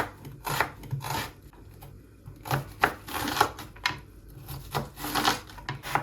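A knife cutting an onion into small pieces on a board, a series of short scraping chops in irregular bursts, close and fairly quiet, with no voices.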